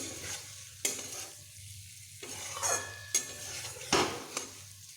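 Batch fish cooks down in a pan, a soft low sizzle punctuated by several distinct scraping stirs of a utensil against the metal, close and fairly quiet.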